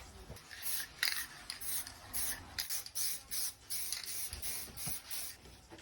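A spray paint can coating a refurbished Ford Sierra Cosworth front wiper assembly, giving short, quiet hissing bursts in an uneven rhythm, close by and alone.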